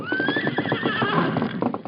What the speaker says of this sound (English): His horse is coming.